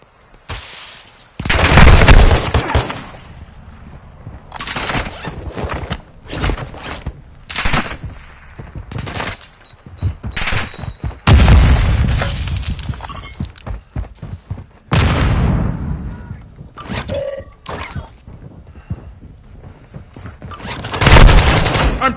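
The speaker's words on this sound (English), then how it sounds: "I'm taking fire." Heavy gunfire in the Warzone video game, with rapid automatic bursts and booming shots coming in dense waves over more than twenty seconds, loud and close, with short lulls between volleys.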